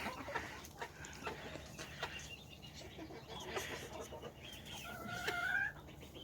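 Backyard chickens clucking near their pen, several close birds giving scattered short clucks and a rising squawk near the end, over quiet outdoor background with no talking.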